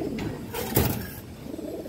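Tournament pigeons at a bird market give a short, close coo with a soft throaty swell in the middle, against light background hubbub.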